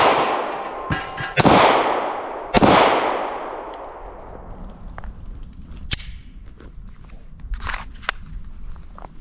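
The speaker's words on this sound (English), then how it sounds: "I just want to shoot a couple rounds through this gun" Two loud, close pistol shots from a Glock 43X, fired about a second apart, each with a long ringing decay outdoors, followed by faint rustling and small clicks.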